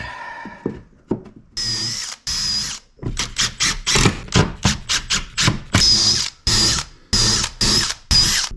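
Power drill driving screws into the wooden cabintop of a liveaboard boat, a run of short, loud whirring bursts that speed up and stop repeatedly, some with a squealing bite as each screw seats, close by with no talking.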